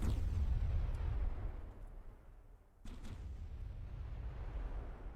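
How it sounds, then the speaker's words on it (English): Heavy warship cannon fire in a ship-building video game: a deep booming blast that rolls off and fades, followed by a second sharp shot near the middle, loud and low, with no voices. "That makes a pretty good boom, doesn't it?"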